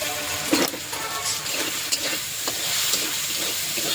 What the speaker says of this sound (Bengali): এখন মশলাটা ভেজে তারপর আমি কাঁঠালটা দিয়ে দেবো